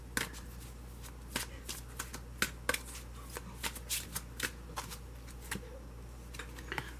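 Romance angel tarot cards being shuffled, a close, quick run of crisp riffling flicks and taps over a low steady hum, with no talk.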